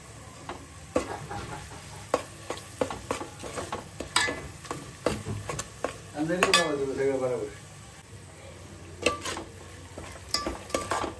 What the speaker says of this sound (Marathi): तर आपण वाटण टाकत आहोत आपलं काळ्या मसाल्याचं।